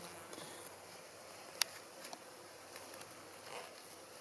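Calm honeybees buzz around a honey-filled hive frame at an apiary during an autumn visit, a faint, soft hum close by with a few light taps and a sharp click.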